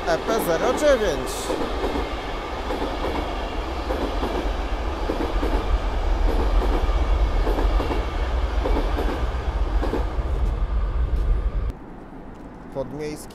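Koleje Mazowieckie suburban train rolling through the Warsaw cross-city tunnel, continuous loud rumble with rhythmic clickety-clack of wheels over rail joints, a voice speaking over it, cutting off sharply near the end.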